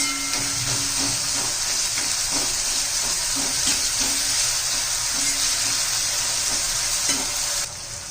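Chopped onion sautéing in hot oil in a pan, a steady dense sizzle running throughout with scattered scrapes and clinks of a stirring spoon, fairly close and loud, no voices.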